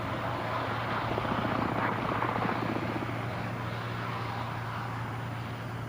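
A helicopter flies steadily nearby, its rotor thudding in a continuous drone with a strong low hum throughout, no voices.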